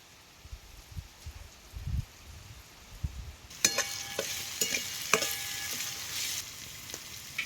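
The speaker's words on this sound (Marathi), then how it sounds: "टोमॅटो तेलात चांगलं भाजले आता हिरव्या मिरच्या टाकायच्या हिरव्या मिरच्या जरा तेला तसे जरा भाजून घ्यायचं" Tomatoes and green chillies frying in oil on a wood-fired stove for puri bhaji: a soft low crackle gives way to a loud, steady sizzle with sharp spitting pops and scraping stirs.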